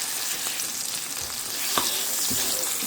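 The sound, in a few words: eggplant frying in a pan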